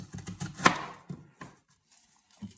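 Knife cutting an onion into thick rings, several sharp chops on a board spaced unevenly, one louder strike standing out, close and dry with quiet pauses between.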